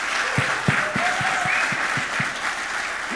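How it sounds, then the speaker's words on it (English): Full, sustained applause from a conference audience at a New York City real estate forum, a dense steady roar of many hands with a few louder claps up close and no speech over it. "let's give a round of applause to these guys coming out here and talking to us"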